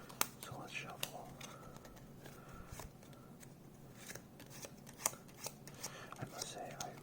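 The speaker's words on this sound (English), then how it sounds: "So let's shuffle." Cards being shuffled with soft riffling bursts and sharp snaps, close by, with quiet rustling in between.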